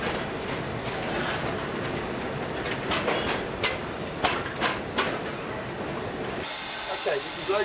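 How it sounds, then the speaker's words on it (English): A steam locomotive drifting slowly along rails beside a steel girder coal stage, with loud continuous hiss and rumble and rhythmic clicks of wheels over rail joints, fading at the end. "The train drifts down beside the coal stage"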